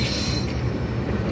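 A diesel locomotive uncoupled from its train rolls away at Samastata railway junction, with a steady low engine rumble, rail noise and faint wheel squeal, continuous and fairly close.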